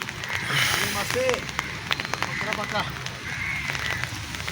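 Heavy rain falls during rod fishing for tilapia with friends, a dense crackling patter that runs steadily under people talking.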